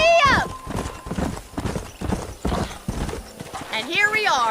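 Horse hooves clip-clop at a gallop in the video game Red Dead Redemption, a quick, close rhythm with a whinny near the start and another near the end, under game dialogue.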